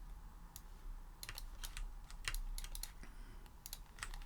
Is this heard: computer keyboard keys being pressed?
yes